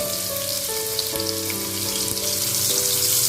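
Green onions sizzle in hot oil with garlic for a Chinese-style chicken chowmein, a steady close, bright hiss with faint crackles that holds evenly throughout, over a soft background hum.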